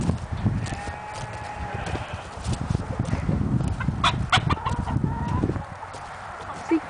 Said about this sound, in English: But he's still better than the other chicken, Net Coop.